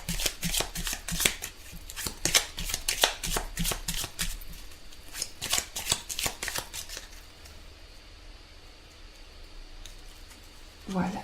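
Tarot cards shuffled for a reading, a quick series of crisp riffling bursts, close and fairly soft, that thins out to quiet handling in the second half; no speech is heard.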